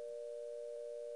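A telephone busy signal in a Nancy Drew video game sounds as a steady, pure electronic tone, faint and unbroken for about a second with nothing else heard.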